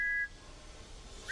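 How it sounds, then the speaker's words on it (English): A toy train whistle from a Thomas and Friends remake sounds as a short, clear steady tone, then cuts off into quiet hiss before a second whistle starts right at the end. "Then in the distance, he heard Stanley's whistle from the track below."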